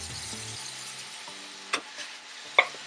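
Ground beef frying in a pot with no oil, its own fat giving a low, steady sizzle, with a few sharp utensil scrapes and clinks as it is stirred.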